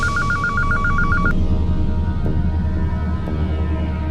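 A telephone rings with a rapid warbling electronic trill for just over a second, then stops, leaving a steady low hum.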